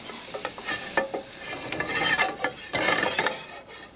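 Sorrel cooking in a hot pan: a lively, close sizzle that swells and eases, broken by clattering stirring knocks and scrapes, with no talking.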